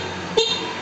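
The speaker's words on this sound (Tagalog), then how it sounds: "Yung sa busina, okay na rin." An e-bike horn gives a single very short beep, loud and close against quiet background noise.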